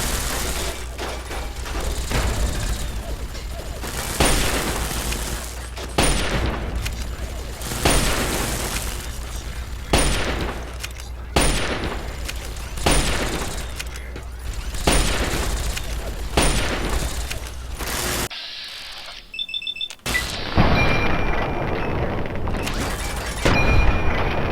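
Gunfire in the Fallout 3 video game: bursts of sharp, repeated shots and impacts crackle throughout, with a brief quiet gap before the firing resumes loudly.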